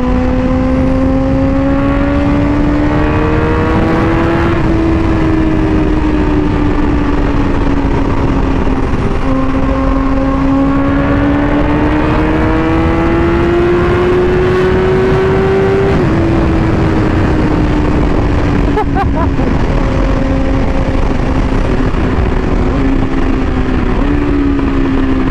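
A motorcycle engine revving loudly and steadily nearby, its pitch rising and falling in long swells with a dip midway. No talk is heard.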